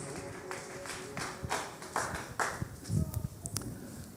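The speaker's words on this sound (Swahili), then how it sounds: "Our Bishop Deo, please church, let's clap" Church congregation clapping for Bishop Deo at a pastors' conference, scattered uneven claps building in bursts while a voice talks over them.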